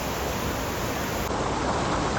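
Kalu waterfall on a trek, rushing water pouring steadily as a dense, loud broadband roar that stays constant and close throughout, with no voices.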